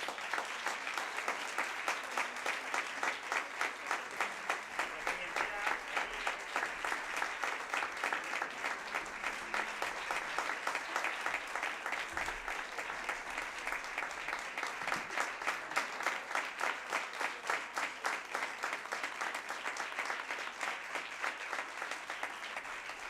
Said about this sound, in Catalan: Un fort aplaudiment per a ells.